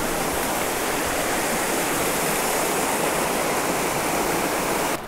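A stream rushes in Wissahickon Valley Park in Philadelphia, a loud, dense and continuous roar of flowing water heard close by for the whole stretch, with no voices.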